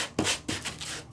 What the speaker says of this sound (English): It's going to sand to the color that's been sandwiched in the middle.